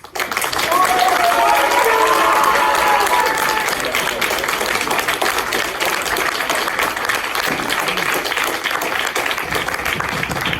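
A crowd applauds at a championship final, with thick, sustained clapping that starts abruptly and stays loud and even for about ten seconds.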